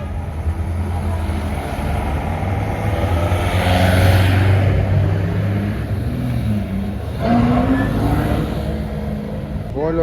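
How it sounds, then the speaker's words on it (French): A Porsche passes close by at a large Porsche gathering in Saint-Tropez, its engine note swelling and fading with a second rise later, while people chat nearby. "Voilà, encore une Porsche."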